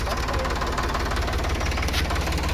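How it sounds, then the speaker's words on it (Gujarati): Farm tractor engine running close by, a loud steady knocking diesel throb throughout with a faint voice in the background. "ડ્રાઈવર ભાઈ આપણું જો ટ્રેક્ટર હમણાં વાળે મૂકી દે"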